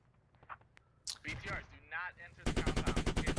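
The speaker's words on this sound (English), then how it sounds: "BTRs taking shots out into the buildings" Gunfire from a BTR armored vehicle in the Squad video game, beginning as a faint shot or two and growing into a loud, rapid burst of repeated shots. A voice talks over the middle of the clip.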